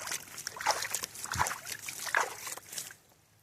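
Water sloshing and trickling in uneven bursts close by, then fading to quiet near the end.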